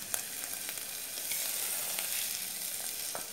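Garlic and onion fry in margarine with a steady, faint sizzle and soft crackling pops throughout, close and alone without talk.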